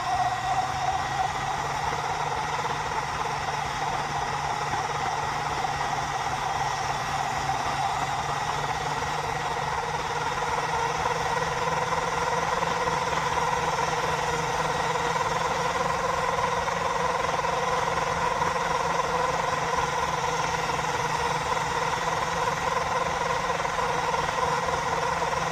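A Mini Cooper S engine idling: a steady mechanical drone with a sustained high-pitched whine riding on top, continuous and unchanging for the whole stretch, with no voices.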